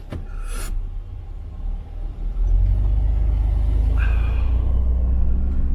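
Off-road vehicle pulling up on sand at the edge of a lake bed in the Empty Quarter desert, a steady low engine rumble that swells and holds loud, with a brief scraping rasp early on and no talk.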